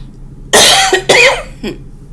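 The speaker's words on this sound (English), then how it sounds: "I'm sorry, y'all. I am trying to shake this cough." Two loud, harsh coughs close to the mic in quick succession, followed by a softer throaty exhale.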